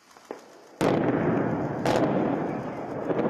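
Longannet power station brought down by explosive demolition: a loud sudden blast followed by a second boom about a second later, then a sustained rumbling roar as the structure collapses.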